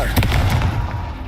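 Confringo fire spell blast in the Hogwarts Legacy video game: a loud, close booming burst with crackling fiery pops and a deep rumbling low end that trails off quickly.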